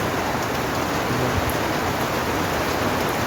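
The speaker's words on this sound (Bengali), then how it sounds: "এখন বৃষ্টি পড়তেছে, আপনারা হয়তো সাউন্ড শুনতে পাচ্ছেন" Steady, dense rain pours down nearby, a continuous even hiss with no breaks.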